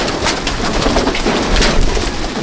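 Adult pigeons of Andhra and Malwai breeds in a loft, a steady close wash of cooing and fluttering bird noise filling the space without pause.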